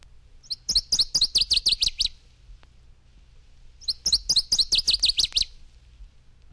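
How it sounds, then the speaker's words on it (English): Northern waterthrush song: two bright, emphatic bursts of quick repeated chip-like notes that speed up and end abruptly, close and loud with quiet gaps between, no voices. "Northern Water Thrush."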